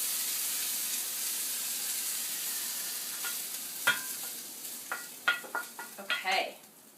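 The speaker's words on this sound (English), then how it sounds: "Can you hear that sizzle?" Mushrooms sizzle in a pan as a soft, steady hiss of frying, with a few louder crackles and stirring scrapes building toward the end, close and fairly quiet.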